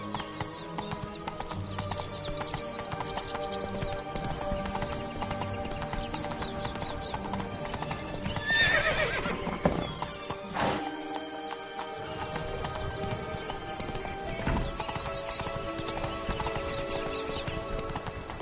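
A horse in The Witcher 3 gallops with rapid, steady hoofbeats over ambient game music, joined by a neigh partway through.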